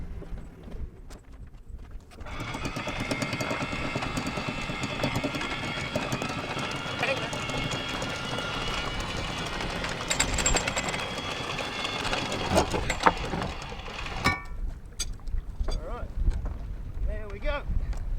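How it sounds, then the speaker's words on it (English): A steady mechanical whirring and clanking drone runs for most of the clip as a sailboat's anchor windlass hauls in chain, with a voice speaking over it. "the anchor windlass uses a lot of power"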